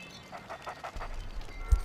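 A dog in the video game LEGO City Undercover pants in quick, soft breaths, close and fairly quiet, followed by a low thump.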